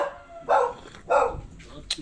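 A dog barks twice in quick succession, close and fairly loud, with a brief higher yip at the end and a voice speaking around the barks.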